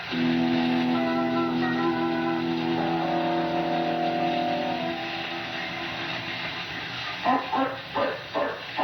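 A car pulls away in an old 1939 radio drama, with an engine drone and tonal hum fading over several seconds, followed by a few short bursts near the end.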